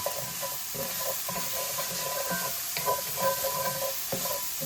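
Pork and cabbage stir fry sizzles steadily in a hot pan, with a continuous loud frying hiss and repeated scraping and stirring knocks throughout, no voices.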